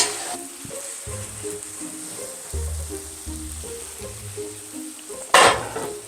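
A cook stirs food in a hot pan with a utensil, steady sizzling under soft scraping, then a brief louder clatter near the end.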